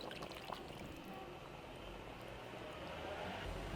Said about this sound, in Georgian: დავამატებ ცოტა ქათმის ბულიონს